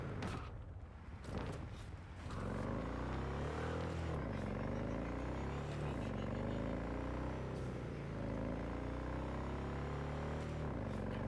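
A car engine in the video game Cyberpunk 2077 drones with rising and falling revs, heard close and continuous after a few brief knocks at the start.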